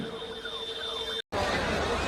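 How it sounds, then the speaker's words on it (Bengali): An ambulance siren wails steadily at an election rally in Barrackpore. Its held tone and gliding sweeps are briefly cut by a short dropout before a louder, noisier crowd sound returns. "অ্যাম্বুলেন্সটা ছেড়ে দিন ভাই"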